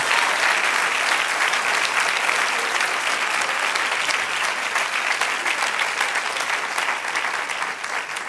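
Sustained applause from a large church congregation, steady and loud throughout with dense clapping and no pauses.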